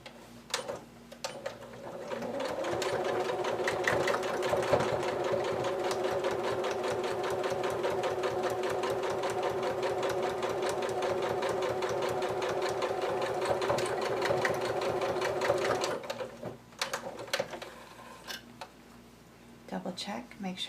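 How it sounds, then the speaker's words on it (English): A domestic sewing machine stitches across four layers of fabric and a layer of batting for a small holiday wallet, running steadily and close for about thirteen seconds, with brief starts and stops at each end for the reverse stitch. "Now we're going to stitch this in closed all the way across there using a reverse stitch at the"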